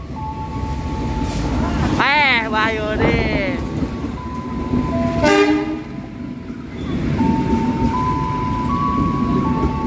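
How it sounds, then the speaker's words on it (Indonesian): The Serayu passenger train pulls into Cimahi station, its horn sounding in a couple of long toots over the rumble of the rail cars, with a person talking nearby as the train rolls in. "Kereta api Serayu masuk stasiun"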